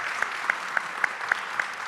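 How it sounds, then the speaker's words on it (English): Applause from an audience at an art and technology talk, a steady wash of clapping with a few sharper individual claps standing out at regular intervals. "Round of applause for Sam"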